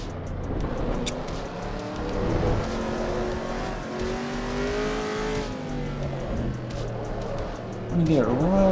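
Race car engine in Assetto Corsa EVO video game, held on throttle with smooth rising and falling pitch, loud and steady, a voice talking over it.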